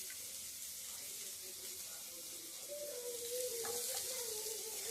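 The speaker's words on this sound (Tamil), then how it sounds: "நம்ம எல்லா காய்கறியும் போட்டு வதக்கிக்கலாம்" Mixed vegetables for a veg soup sauté in a pan, giving a steady broadband sizzle throughout with light stirring scrapes and a faint tonal hum. It grows slightly louder near the end, and no one talks.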